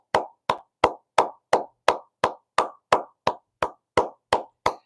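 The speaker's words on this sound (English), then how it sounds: "let's give the UFC a round of applause" A round of applause for the UFC, given as a slow, evenly spaced series of about fourteen sharp single claps. Each clap stands alone against silence, close and distinct.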